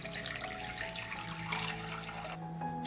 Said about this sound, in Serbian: Sipat ću vodu do visine poklopca.